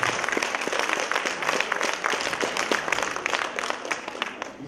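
Enthusiastic audience applause at a children's festival show, dense continuous clapping from a crowd filling the whole stretch at steady loudness.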